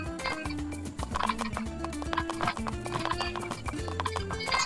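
A horse being ridden in a Roblox game gives steady, loud rhythmic clip-clop hoofbeats throughout, with an occasional whinny mixed in and no talking.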